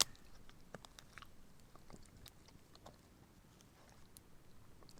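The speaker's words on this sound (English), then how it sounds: "He is right by the camera, chewing his stick." A dog chews on a stick right beside the camera at a rainy campsite with a tent and tarp, giving quiet, irregular crunching and gnawing clicks over a soft, steady background hiss of rain.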